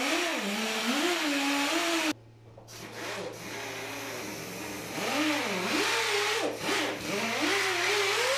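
A polisher grinds over an epoxy countertop, its motor pitch rising and falling in wavering sweeps as it works, loud and near with a steady low hum underneath, without talking.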